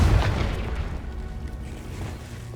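A Confringo spell explosion in Hogwarts Legacy sets off a deep, heavy boom that opens loud and then rumbles on steadily for a couple of seconds.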